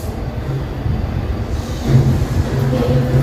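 A train rolls past, its low rumble building and swelling toward the end into a heavy, close roar of railcars with faint rattling and no voices.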